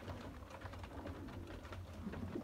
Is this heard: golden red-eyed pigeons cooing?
yes